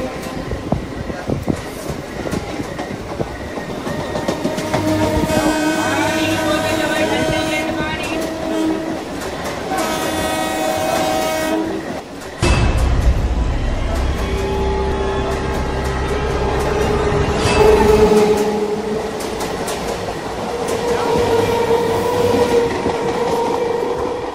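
A train rolls into a station, a loud rumble of wagons with clattering wheels and a deep low surge that builds midway, while people talk faintly nearby.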